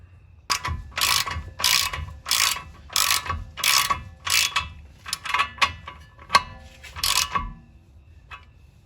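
A ratchet tightens the tie rod nut on a Saab 9-3, close and loud, with about a dozen quick clicking bursts in an uneven rhythm and short pauses between strokes.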